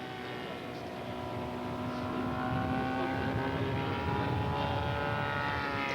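A radio-controlled 1/3 scale model airplane drones through a loop at an aircraft show, its engine pitch rising and sliding steadily as it climbs and turns, loud and continuous with no talk.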